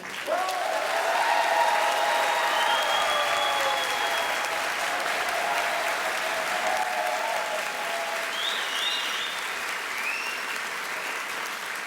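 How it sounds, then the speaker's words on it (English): A theater audience gives sustained, steady applause for director Mr. Mancini, dense clapping that stays loud for the full stretch with a few faint whistles or cheers rising above it. "please give a big round of applause to this part. Director, Mr. Mancini"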